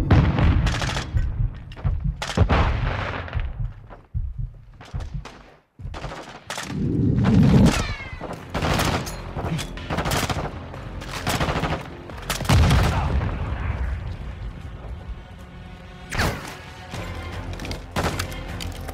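Call of Duty Modern Warfare 2 Remastered Prison Break combat: sharp gunshots and machine gun bursts come in clusters with brief lulls, loud and close, with no talk over them.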